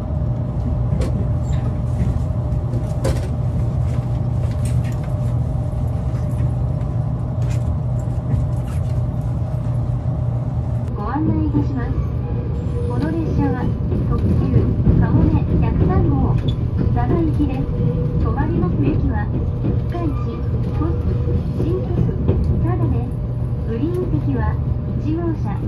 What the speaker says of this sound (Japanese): 23時39分、5分ほど遅れて博多を出る正真正銘最後の在来線特急かもめ103号